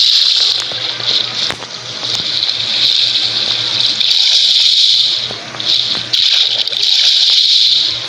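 Flowing water in a Minecraft-style PvP game pours in a steady bright gush, loud and close, with brief dips in the stream and a low hum underneath.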